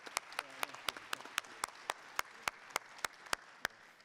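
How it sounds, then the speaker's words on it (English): An audience at a startup event gives a short round of applause, with sparse, distinct handclaps in a steady rhythm that sound thin and distant in a large room. "Round of applause."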